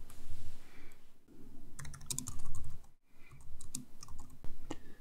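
Clicky bursts of computer keyboard typing as a name is entered, uneven clusters of keystrokes with short pauses, close and fairly quiet with no one talking.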